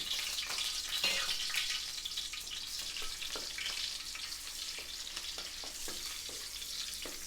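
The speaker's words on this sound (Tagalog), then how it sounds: "Ilagay muna natin ang sibuyas bawang. Gigisa muna natin yan." Onion and garlic sizzle steadily in a hot pan while a utensil stirs with occasional light clicks and scrapes.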